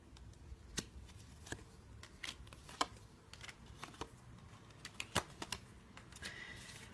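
Tarot cards being shuffled and laid out on a surface, heard as quiet, close papery riffles punctuated by sparse sharp snaps and slaps, with no talking.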